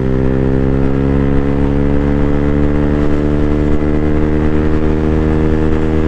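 Steady, loud engine drone of a 2024 Freedom Fighter 200 EFI carrying a 256 lb rider, a constant even hum with strong harmonics and no variation in pitch, close and unbroken throughout.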